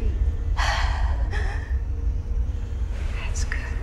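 A woman wakes and takes sharp gasping breaths: two quick, close intakes of air, then softer breathing, over a low, steady rumble.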